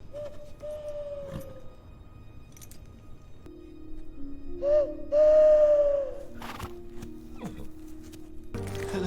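A clear human whistle calling a horse rises and holds for a couple of seconds amid quiet outdoor ambience, with a shorter faint whistle earlier and some thumps later.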